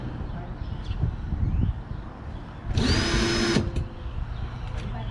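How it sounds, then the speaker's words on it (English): A small power drill with a step bit whines at high speed in one short burst of about a second, boring a hole, set against steady low background noise. "Drilling holes, especially with tiny drills like this, you have to push straight."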